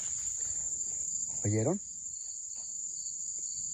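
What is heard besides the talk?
crickets chirping at night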